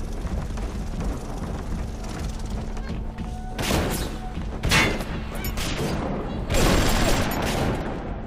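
An automated BioShock turret fires in a dense, continuous burst of rapid gunfire, with louder crashing thumps breaking through at intervals over a steady chatter of shots.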